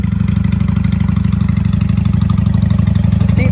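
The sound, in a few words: 1995 Honda Shadow VLX 600 motorcycle engine idling after starting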